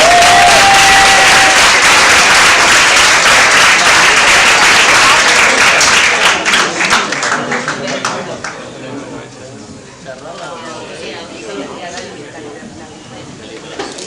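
Loud audience applause fills a small amateur stand-up comedy contest venue, dense clapping sustained for several seconds before thinning and fading into scattered claps and room murmur.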